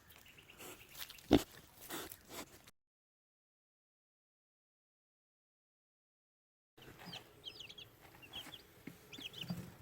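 Newly hatched chicks of mixed breeds, Australorps, Orpingtons, Sussex and a couple of Araucanas, give faint high peeping chirps with some low clucking, broken by a stretch of silence in the middle.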